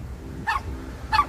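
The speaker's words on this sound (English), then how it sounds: "He always wanna bark at me every time I go by there" A dog barks twice, each a short, fairly loud bark with roughly half a second between them, over a low background rumble and no speech.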